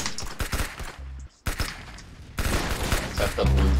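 Rapid bursts of shotgun fire in a multiplayer shooter video game, loud repeated blasts in close succession with brief pauses between volleys.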